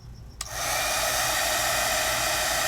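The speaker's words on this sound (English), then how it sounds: "And if I want, I can take a heat tool" A heat tool set on low blows steadily to dry Copic marker ink on Dura-lar film, starting with a sharp click and then a continuous loud, even whoosh of air that holds without pause.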